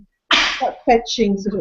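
One sharp, loud sneeze from a person with hay fever bursts out close to the microphone, followed by a brief voice speaking right after.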